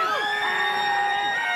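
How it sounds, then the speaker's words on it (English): A loud, sustained siren wails steadily at a rugby union match, the 2021 NPC Premiership final between Waikato and Tasman, with several held tones layered over faint crowd noise. "Siren goes."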